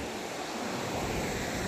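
The Beas river and a waterfall near Manali make a steady, loud broadband rush of flowing water, continuous and close, with no voices.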